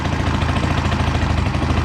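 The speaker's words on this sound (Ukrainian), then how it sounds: "Холостий я трошки підкрутив, щоб він собі так працював чуть-чуть на більших оборотах" A Chinese four-stroke 139QMB scooter engine idles at a slightly raised idle speed after repair, giving a steady, continuous mid-pitched hum with an even low throb throughout, close by and without talk.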